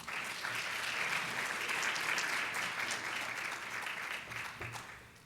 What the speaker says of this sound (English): please give her a round of applause as she comes to the podium